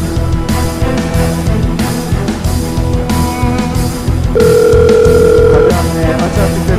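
A phone's ringback tone sounds while a call is placed, one steady electronic tone lasting just over a second, partway through, over a loud, busy background.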